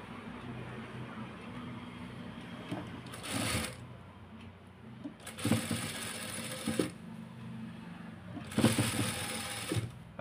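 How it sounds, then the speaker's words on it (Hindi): Sewing machine stitching fabric for a palazzo garment in a boutique, running in three loud bursts of rapid mechanical whirring separated by pauses of low room noise. "अभी फूल को मैं पलटा के इस साइड सिलाई लगाऊंगा।"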